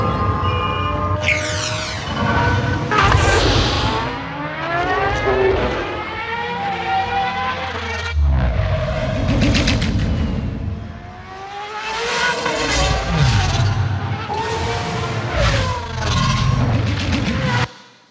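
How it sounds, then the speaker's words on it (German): Star Wars podracer film sound effect of the racer flying through a canyon, a loud continuous roaring engine whine with repeated rising and falling revs and passing swooshes, ending abruptly. "Also so klingt er letztendlich, der Podracer in dem Film."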